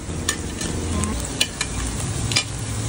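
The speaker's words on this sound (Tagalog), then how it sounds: "Kailangan nga pag nagluto kayo nito, stir fry lang para hindi nga siya masunog." Food stir-fries in a pan with a loud continuous sizzle, broken by occasional sharp clinks and scrapes of a utensil against the pan.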